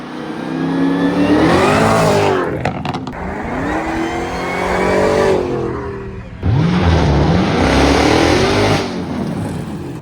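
A car fitted with a carbon fiber supercharger lid revs hard, its engine rising and falling in two loud, sustained pulls with supercharger whine, heard close and alone.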